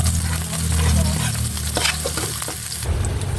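Garlic and onion sizzle in hot oil for a sautéed corn dish, making a dense, loud, continuous frying hiss with a few clinks and stirs, and a low hum underneath. No voices.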